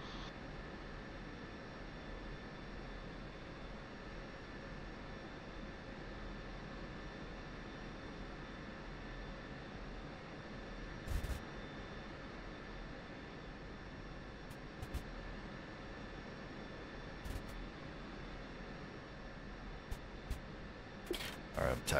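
A jet aircraft engine, an F/A-18 Hornet in a video game, hums steadily while taxiing, a faint even drone that holds throughout with a few brief clicks near the end.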